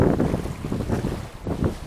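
Gusty wind at sea buffets the microphone on a RoRo ferry crossing from Laguna to Mindoro, roaring in uneven surges with a low boat rumble beneath.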